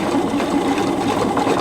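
A sewing machine stitches a bound buttonhole at a low stitch length, giving a steady, close mechanical whirr with a fast, even rhythm that runs unbroken throughout.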